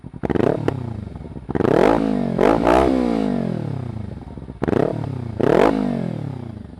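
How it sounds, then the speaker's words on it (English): A Kawasaki Ninja 300 with a Two Brothers Racing Black Series exhaust is revved in several sharp blips, each rising quickly then falling away, loud and close with a rumbling idle between. "This is revving."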